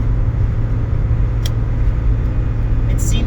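Inside a 1991 Mazda Miata NA cruising at highway speed on the road, a loud, steady low engine and road rumble fills the cabin without a break.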